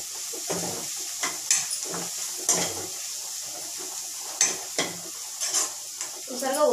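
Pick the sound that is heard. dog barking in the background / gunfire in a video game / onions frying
onions frying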